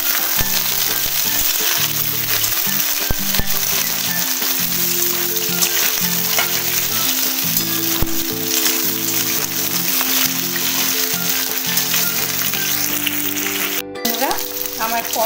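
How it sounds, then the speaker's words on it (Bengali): Pieces of pointed gourd (potol) sizzle in a pan, a steady, dense crackle of frying that continues unbroken throughout, with occasional faint clinks. "আমার পটলগুলো কিছুটা লাল লাল করে ভেজে নিয়েছি।"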